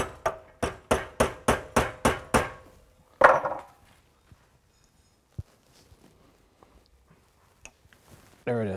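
A hammer strikes a Helicoil thread insert in a series of about seven sharp, evenly spaced metallic blows, then one harder hit as the tang breaks off, followed by small scattered taps and clinks close up.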